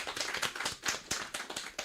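Church worship congregation clapping in praise, a rhythmic run of fairly even claps at a quick regular beat, moderately loud and without talking over it.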